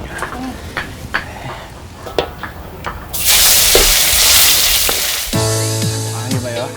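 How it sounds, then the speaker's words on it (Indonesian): Ground yellow spice paste hits hot oil with a sharp, loud burst of sizzling after scattered clicks and taps, followed by a warbling tonal sound over a fading sizzle. "Pertama-tama, tumis dulu bumbu kuning yang sudah dihaluskan."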